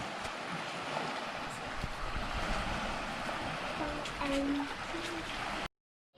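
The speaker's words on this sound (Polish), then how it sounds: "Słychać morze, a rano nie słychać, bo jest takie spokojne." Steady rushing surf on the Pelješac Peninsula coast in Croatia, constant and broad, with wind buffeting the microphone; a few faint tonal sounds drift in near the end before it cuts off.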